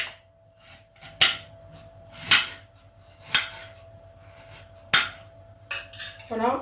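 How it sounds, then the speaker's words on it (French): A knife cuts pears into thin slices on a board, giving five or six crisp, separate taps about a second apart with quiet between them. "Vous prenez vos poires, vous les coupez comme ceci en lamelles."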